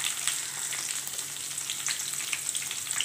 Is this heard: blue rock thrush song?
no